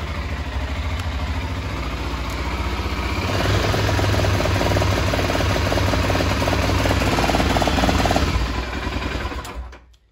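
Ford F650 truck engine with a faulty voltage regulator running: a loud, continuous rumbling drone with clattering texture that swells louder partway through, then cuts off abruptly at the end.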